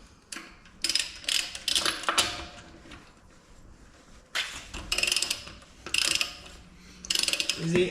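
A ratchet tightens lug nuts on a 2016 Honda Pilot wheel during a brake change. It gives close, rapid clicking bursts, several runs of ratcheting separated by short pauses.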